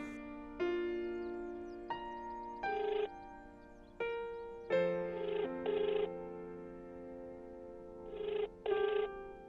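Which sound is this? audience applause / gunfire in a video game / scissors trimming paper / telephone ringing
telephone ringing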